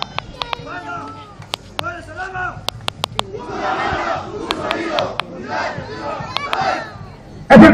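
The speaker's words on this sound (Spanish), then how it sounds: "¡Es el grito de guerra!" Students of the Taisicaya school unit shout a rhythmic battle cry during a patriotic parade in Bolivia, bursts of group chanting punctuated by sharp claps or drum hits, with a crowd cheering around them.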